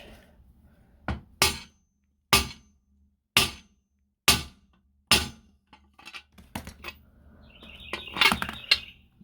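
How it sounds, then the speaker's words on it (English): A hammer strikes a stuck 17 mm part on a scrap electric motorcycle in six sharp, evenly spaced metallic whacks, each ringing briefly, then a flurry of lighter clanks and a squeaky metal rattle. "we're just gonna keep whacking on it"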